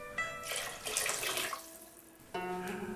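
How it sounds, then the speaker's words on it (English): Tap water runs into a cooking pot of potatoes and carrots in a kitchen, a hissing splashing stream that starts, swells, fades, then resumes abruptly near the end, with no talking. "just fill the pot with water"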